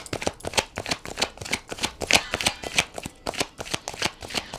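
A deck is shuffled for a card reading, with quick, rhythmic riffles and flutters repeating closely throughout and no talk over them.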